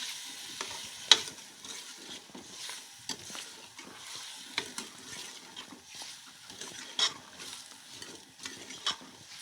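Potatoes frying in a pan of egg and potato curry base, a soft sizzle broken by repeated stirring scrapes and a few sharp clinks, close and fairly quiet.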